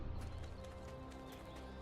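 Horse hooves clip-clopping in the video game Tale of the Mudang Wraith, Land of the Morning Light, a faint, soft rhythmic patter of steps set low beneath game ambience.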